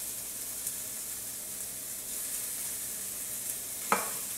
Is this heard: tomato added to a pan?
yes